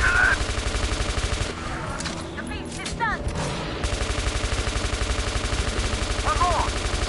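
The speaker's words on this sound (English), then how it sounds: "This gun has a decent firing rate" Rapid automatic gunfire in Metro Last Light Redux: loud, evenly spaced shots rattle in fast bursts. A short break midway is filled with scrapes and creature noises before the steady firing resumes.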